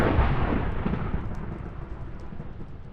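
Deep, rumbling thunder from a Minecraft lightning strike booms loudly at the start, then rolls and fades slowly over the following seconds with no talking.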